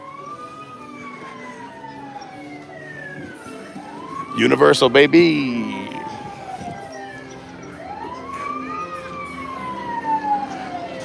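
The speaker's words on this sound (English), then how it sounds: "Now the cops have their sirens and lights on." Police car sirens wail at Universal Studios in the Simpsons land area, rising and falling sweeps repeating at a moderate distance under crowd noise, with a short loud burst of voices midway and people talking.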